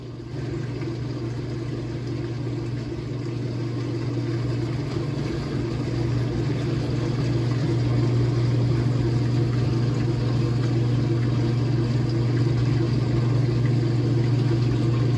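A 2007 Whirlpool washing machine on its permanent press cycle hums steadily through the spin drain, a constant motor whir with a faint rise in loudness, alone and close.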